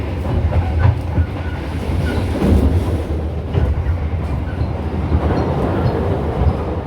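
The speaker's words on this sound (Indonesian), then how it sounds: "kita nyusul kereta bareng." A passing train runs alongside on the Blambangan Express rail trip in Indonesia, a steady loud rumble and rattle of carriages with clickety-clack wheel rhythm throughout, no voices.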